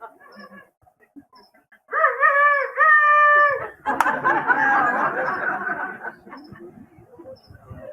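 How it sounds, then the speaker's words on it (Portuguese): A rooster crows loudly twice in close succession, followed by clucking and chatter from fowl, with quieter bird sounds before and after. "Canta aí, galo."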